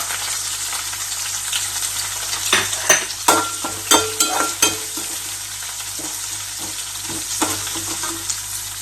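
Onion pieces fry with cumin and curry leaves in oil, a continuous sizzle with a cluster of sharp spoon scrapes and clinks against the pan midway, then quieter frying.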